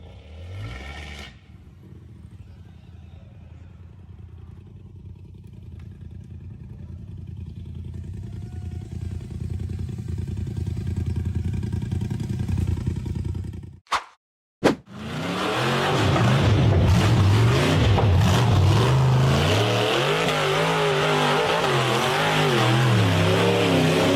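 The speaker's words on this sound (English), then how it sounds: "The buggy powered hard up a steep and treacherous dirt slope between the trees" An off-road buggy claws up a steep dirt slope between trees, its engine droning loudly and steadily, then a brief cut-out before it roars back harder with revving, rising and falling pitch and clattering.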